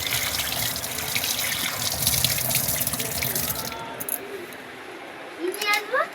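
Running tap water splashes into a sink as hands are rinsed, a steady wash for nearly four seconds before it cuts off, with a few drips and clinks after; people talk throughout in a home kitchen.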